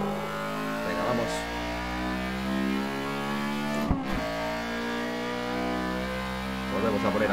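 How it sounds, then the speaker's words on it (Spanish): A Honda Civic EG6 accelerates at full throttle on the Nürburgring during a trackday, its engine note climbing steadily through rising revs, with a brief break around a gear change and loud, continuous onboard sound and someone talking over it. "Volvemos a poner aquí a tope de nuevo el coche."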